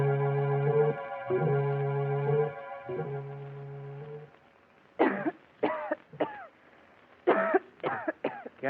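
A held musical tone gives way to a string of about six harsh, close coughs from a woman in a radio drama, coming in uneven bursts with short pauses between them.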